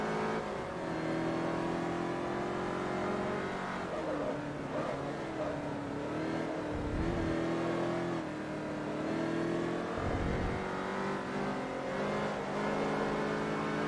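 In Forza Motorsport 3, a Shelby GT500 Mustang's engine drones and revs continuously while racing, dipping briefly twice as it shifts or lifts off.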